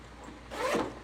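Zipper on a thick leather toiletry travel bag pulled in one quick, close rasping stroke lasting under a second after a faint lead-in.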